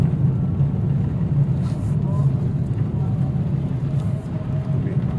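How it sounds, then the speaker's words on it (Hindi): A car is driven through the streets of Madinah, a steady low engine and road rumble that holds at a close, even level while someone talks over it. "ये देखिए मैं गाड़ी चला रहा हूँ।"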